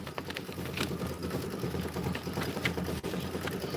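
A sewing machine stitches pinwheel quilt blocks in a steady, continuous run of rapid needle strokes at close range, with no pauses.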